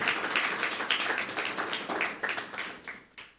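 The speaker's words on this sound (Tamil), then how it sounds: "கைத்தட்டலாமா?" A church congregation claps during a Tamil Bible sermon, a dense, steady patter of many hands, fairly faint and distant, thinning out toward the end.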